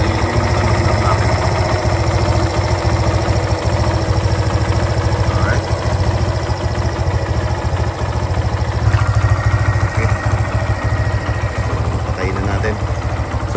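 A Kawasaki Barako motorcycle engine idling close by with a steady, low, pulsing rumble, while someone talks over it.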